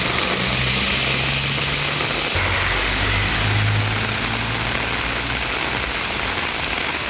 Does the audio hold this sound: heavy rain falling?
yes